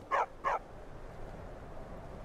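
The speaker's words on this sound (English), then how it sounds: "They have an armored dog?" An armored dog in Skyrim barks twice in quick succession, mid-distance and moderately loud, followed by quiet ambient background.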